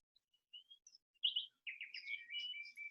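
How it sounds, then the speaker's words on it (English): Birds sing in trees on mountain slopes above high meadows, giving a series of soft chirps and short trills that grow into a busier run of calls, fairly faint and with no other sound around them. "birds sing in the trees once again"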